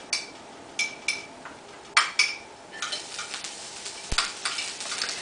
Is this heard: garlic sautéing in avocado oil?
yes